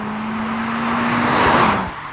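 A Honda Civic Type R Sport Line drives along a road with a steady engine drone. The sound swells into a close whooshing pass and then fades quickly.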